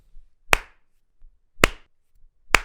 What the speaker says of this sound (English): Let's all slow clap for Haley